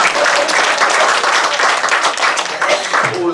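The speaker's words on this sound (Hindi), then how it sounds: "तालियां, तालियां।" Dense, steady applause from an audience at a talk on journalism, loud and continuous throughout without pause.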